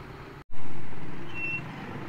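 Steady road traffic rumble heard from an Aerox 155 scooter on a sunny, cold ride through Zambales, a broad continuous roar with a brief dropout, then a loud swell that slowly fades, and a faint thin whistle above.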